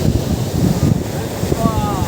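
Strong sea wind buffets the microphone while waves surge and wash on the beach at Digha in the evening, a loud, rumbling, continuous roar close by.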